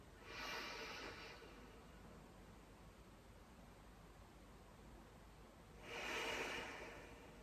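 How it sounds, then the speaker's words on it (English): Two strong, breathy exhales during a yoga breathing exercise, one early and one near the end, with faint quiet room noise in between. "Pause for a second and then a nice strong exhale"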